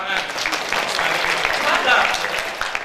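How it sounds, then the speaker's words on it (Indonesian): An audience claps in a sustained, even wash during a sales talk, with voices faintly audible through the applause. "Boleh tepuk tangan."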